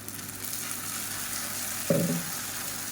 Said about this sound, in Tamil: நம்ம இப்போ அரைச்சி வச்சுருக்கிற தக்காளி வந்து இதோட சேர்த்துக்கலாம்